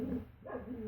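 A dog barks in the background indoors, a single short yelping bark that is fairly loud and heard alone, with no talking.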